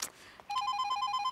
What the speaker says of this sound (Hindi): मैडम, आपका फोन।